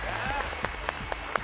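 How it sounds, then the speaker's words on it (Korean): Applause from an audience at a gathering of small-business company heads as a guest is welcomed, fairly soft and broad, with talking voices running over it throughout. "박수 한번 주세요."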